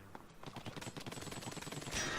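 Rapid ink shots fire in the video game Splatoon, a fast, even stream of wet, bursting pops repeating for about two seconds at moderate volume, with no talking.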